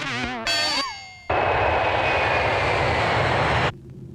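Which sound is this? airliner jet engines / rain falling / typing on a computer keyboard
airliner jet engines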